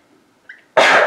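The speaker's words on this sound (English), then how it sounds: "I'm going to sneeze." A single loud, close sneeze from a person, a brief sharp inhale followed by an explosive burst of breath in an otherwise quiet room.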